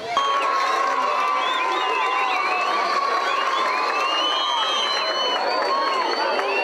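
A crowd at an outdoor rap concert cheers, whoops and shouts loudly and continuously, high excited voices layered into a bright roar with some clapping mixed in.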